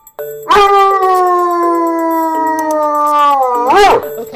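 A dog lets out a long, loud, sustained howl close by, steady in pitch and ending with a rising wavering yelp.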